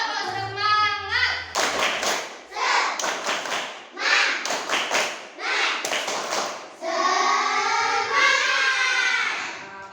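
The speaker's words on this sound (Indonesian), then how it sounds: "Tepuk semangat." A classroom of children performs a rhythmic spirit clap routine, sharp patterned bursts of claps in groups with short pauses between, loud and close, with children's chanting voices mixed in.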